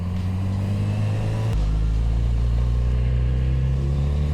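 Kawasaki Z900RS Cafe street motorcycle engine drones steadily while riding, a loud low rumble that deepens and strengthens partway through as the rider opens the throttle, with no talk over it.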